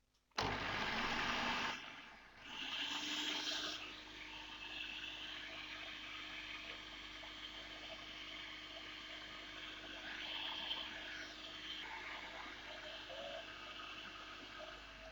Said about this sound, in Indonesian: sekarang kita akan kocok telurnya menggunakan food processor